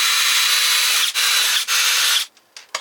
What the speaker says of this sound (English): I'm going to step up the drill bit size and open these up a little bit.